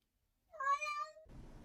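A single clear cat meow rises and holds for under a second, fairly close, followed by a brief soft rustle in an otherwise quiet room.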